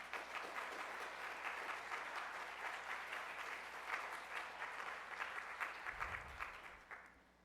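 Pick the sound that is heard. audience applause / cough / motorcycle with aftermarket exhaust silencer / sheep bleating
audience applause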